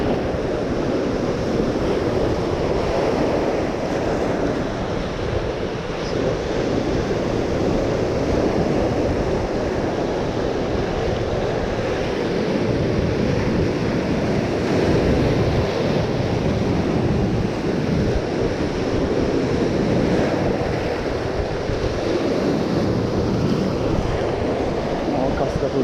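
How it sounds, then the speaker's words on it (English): Mediterranean sea waves wash steadily onto the shore in a continuous broadband roar, with gusty wind buffeting the microphone and no clear gaps between breakers. "It would be good to fish over there, but I think it's a bit too wavy."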